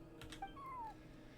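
A cat in the game Genshin Impact gives a short, high meow with a faint upward chirp, over quiet background noise.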